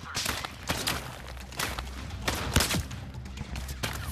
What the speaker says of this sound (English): they're shooting me, but at the same time, I'm trying to shoot them